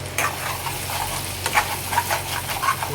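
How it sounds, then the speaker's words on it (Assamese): Food frying in a pan on an Assamese home stove hisses in a steady sizzle, with a spoon stirring through it in soft, uneven scrapes and light taps close by. "অলপ লৰাই দিম"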